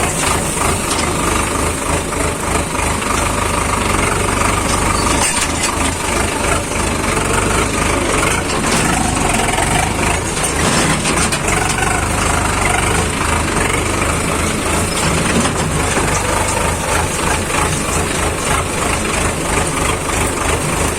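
A Sonalika tractor engine runs steadily, a loud continuous drone with a knocking, idling character that stays constant and close for the whole stretch, with no talk over it.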